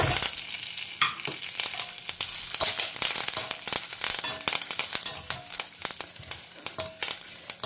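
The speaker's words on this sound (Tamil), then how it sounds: "பருப்புகள், ஜீரகம், மிளகு, பருப்பு கொஞ்சம் செவக்கட்டும்" Lentils, cumin and black pepper dry-roasting in a pan for a pumpkin moong dal sambar, giving a steady close crackling sizzle with scattered pops and stirring scrapes throughout.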